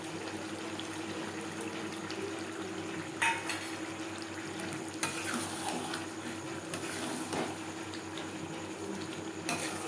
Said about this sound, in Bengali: মাছের তেলের সাথে আলু বেশ ভালো করে মিক্সড করে দেবো